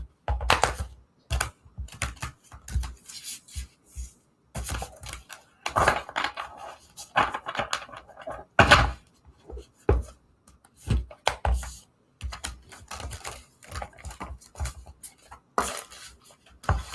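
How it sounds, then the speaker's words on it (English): Tarot cards are shuffled by hand in quick, crisp riffling bursts that come in uneven runs separated by short pauses, close and clear with no voices. "Let's go ahead and shuffle your cards"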